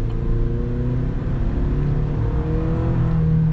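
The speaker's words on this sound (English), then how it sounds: "Let's see what the acceleration's like." A Chevy truck with a 2.7L turbocharged four-cylinder engine accelerates, a loud steady engine drone heard from inside or close by, with its pitch rising gradually over a few seconds.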